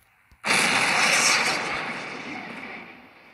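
Battleship guns firing in the naval combat video game World War Battleship, with an O class battlecruiser in play: one loud, sudden blast that starts sharply and leaves a long, broad roar slowly fading over several seconds.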